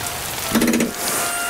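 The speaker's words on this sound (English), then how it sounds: "Bingo! It is now raining." A cartoon rain effect plays in an animated children's show, a bright even hiss of falling rain heard alone at moderate loudness, with a brief tonal burst partway through.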